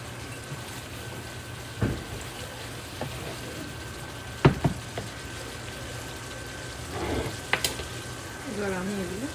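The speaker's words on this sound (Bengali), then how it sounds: "সামান্য পরিমাণ জল অ্যাড করে দিচ্ছি।" A small splash of water goes into a hot pan of chicken being cooked for lunch, giving a soft, low sizzle with a few brief clatters of stirring, fairly quiet and without talk.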